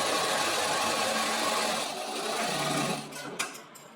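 A sewing machine stitches a seam during a tailoring lesson, running at a steady, even whir for about three seconds, then stopping with a few faint clicks and taps.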